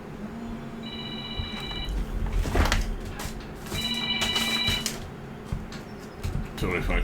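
Telephone ringing in the Contractville game, two bursts of bright electronic ringing under steady background sound and brief clicks, fairly close and moderately loud.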